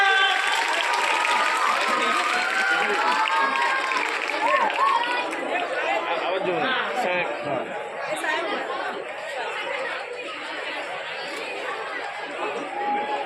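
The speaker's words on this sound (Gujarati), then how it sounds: "તાળીઓ." Applause at a teacher's retirement ceremony at a primary school, steady crowd clapping mixed with loud chatter and voices throughout, moderately distant and continuous, with a few sharper cheers rising above the hubbub.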